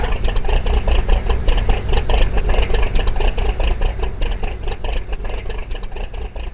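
A pimped-out Impala fitted with a Pro Charger, Borla headers and exhaust and a nitro system idles loudly and close in the game L.A. Rush, a rough pulsing rumble that stays steady throughout.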